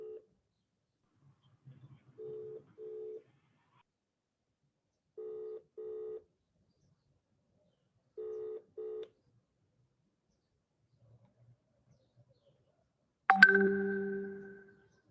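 Telephone keypad tones dialing out, short paired beeps in three separate groups with long pauses between, followed by a brief ringing chime that fades at the end; the line is otherwise quiet.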